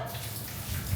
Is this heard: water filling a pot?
yes